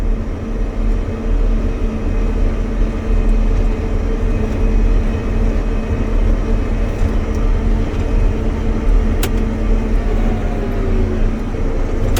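A John Deere 9620Rx tractor drives with a loud, constant low engine drone and rumble heard from the cab, steady throughout with no talking.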